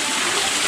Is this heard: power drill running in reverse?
no